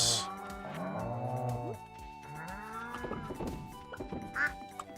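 Ducks in the farming video game Stardew Valley give a few honking, nasal quacks over looping game music, loud and close, with a brief higher call near the end.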